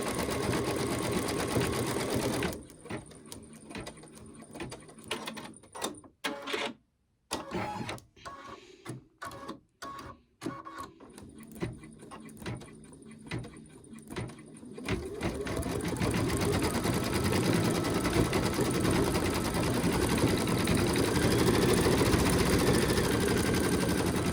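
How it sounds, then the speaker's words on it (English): An embroidery sewing machine stitches the outline of a butterfly on an in-the-hoop design, a close, steady mechanical whirring that breaks into a choppy stop-start stretch midway before resuming as an even run. "Now it's doing the outline stitch around the butterfly."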